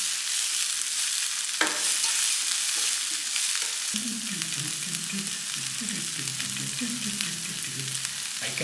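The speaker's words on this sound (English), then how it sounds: "We're gonna cook this onion till it looks a little bit brown" Onion frying in a pan as it browns, a steady bright sizzle close by, with a sharp scrape of stirring partway through and soft rhythmic clatter of the utensil afterward.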